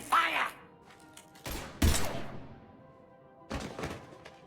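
Gunfire in Mass Effect 3, a few sharp bursts and thuds scattered across the moment with quiet gaps between, the loudest near the middle and another pair toward the end.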